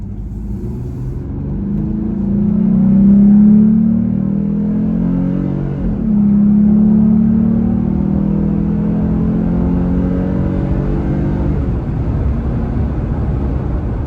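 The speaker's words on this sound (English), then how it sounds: "you can just hear the throatier sound in the exhaust while you're driving along" A Jeep Gladiator engine revs up and accelerates to about 70 with a deep, throaty exhaust rumble, shifting gears midway, then cruising steadily; close and loud, no voices.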